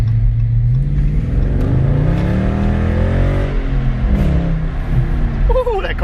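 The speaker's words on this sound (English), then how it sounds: "Ooh, that car sounds good." A 2020 Dodge Charger 392 engine rumbles and revs up as it accelerates, a loud, deep, continuous roar with rising pitch heard from nearby on a road.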